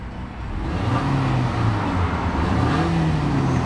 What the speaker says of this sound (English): revs up nicely, idles smoothly, and drives excellent